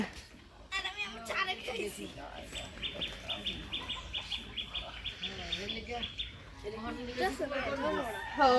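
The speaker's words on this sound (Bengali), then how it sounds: "এবার তাহলে মুরগিকে জবাই করা হচ্ছে" Chickens squawk and flap in short harsh bursts while being slaughtered, loudest near the start and again toward the end, with someone talking throughout.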